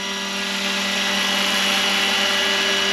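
A Roban 600-size Hughes MD500 scale RC helicopter runs close by with a steady, loud rotor and motor whine holding a constant pitch throughout.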